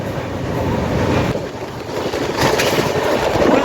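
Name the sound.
passenger train running at 130 km/h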